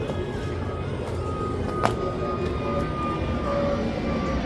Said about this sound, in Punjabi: ਜਹਾਜ਼ਾਂ ਦੀ ਕਾਫੀ ਆਵਾਜਾਈ ਲੱਗੀ ਰਹਿੰਦੀ ਇੱਥੇ ਵੀ